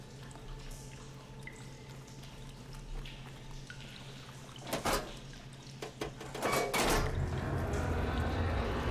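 Water flows through pipes in Horizon Forbidden West, a low steady drone with dripping and pouring bursts that grow louder near the end, with no talking.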